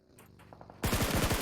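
Rapid automatic gunfire erupts in a PUBG Mobile pro league finals match, a dense burst of close, loud shots in quick rhythm that cuts in suddenly after a quieter moment of softer game sounds.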